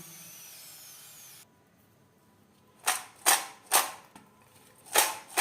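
Crispy homemade French fries crunch in a series of five or six sharp, close bites, separated by short pauses after a quiet opening.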